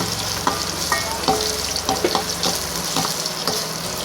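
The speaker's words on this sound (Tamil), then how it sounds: "இதில் நம்ம நறுக்கிய வெங்காயத்தை போட்டுக்குவோம்." Chopped onions fry in a pan with dried red chillies for Sri Lankan-style tamarind rice. A steady close sizzle runs throughout, with soft, irregular scraping knocks as the mixture is stirred.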